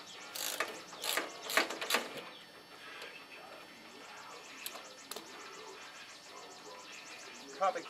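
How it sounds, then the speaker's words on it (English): Bolts being loosened on a 1973 Sears ST 12 garden tractor, a few sharp close ratchet clicks and metallic knocks early on, then quieter faint clicking, with a voice murmuring in places. "I'm going to unbolt this now."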